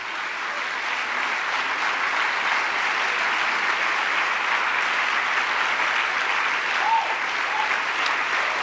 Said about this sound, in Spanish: Denle el aplauso más fuerte.